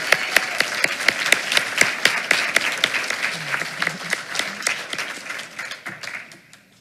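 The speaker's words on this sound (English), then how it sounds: "let's give a round of applause and welcome Canyon to the front" A school board meeting audience applauds a student coming forward for an award. Individual claps stand out sharply over a thinner room of clapping that tapers off toward the end, with a murmured voice briefly underneath.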